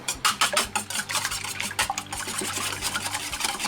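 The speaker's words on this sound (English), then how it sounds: "We're going to whisk up our eggs." Eggs and milk are whisked in a bowl, a rapid, close, wet rhythmic clatter that comes in quick bursts and then settles into steadier beating, with no talking.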